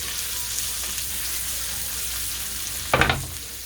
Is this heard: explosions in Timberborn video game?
no